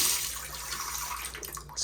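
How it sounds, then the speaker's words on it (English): Water running from a vintage motel bathroom sink faucet with spring-back knobs, a steady hiss of flowing water, fairly quiet and close, with no talk over it. "It's interesting that they have like the spring back knobs on it, so you can't leave the water running"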